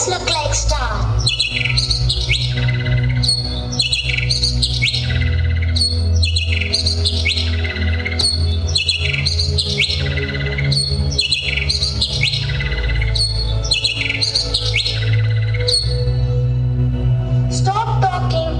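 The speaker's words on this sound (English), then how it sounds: "I want to listen to those birds singing." Birds sing in a garden during a school skit, repeated bright chirps and tweets in a steady looping pattern over a low background hum, loud and continuous throughout.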